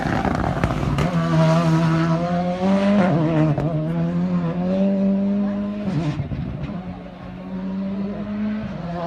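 Rally car driving flat out on a stage, its engine note climbing and dropping through gear changes, loud and fairly close, with brief breaks between revs.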